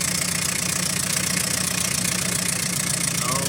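A Mitsubishi 4D33 diesel engine runs steadily after fuel system maintenance, a loud, continuous knocking idle close to the listener with even, rapid rhythm and no pauses.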